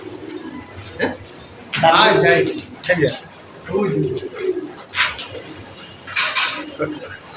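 Pakistani highflyer pigeons cooing nearby alongside clinking dishes and utensils, with people talking over and between the soft, repeated coos.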